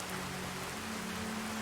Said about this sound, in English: This rain, it just doesn't give up.